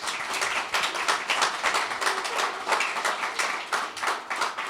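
Audience at a panel discussion on George Mason breaking into a steady round of clapping, moderately distant and sustained for several seconds without speech.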